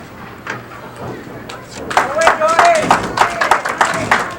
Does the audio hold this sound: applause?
yes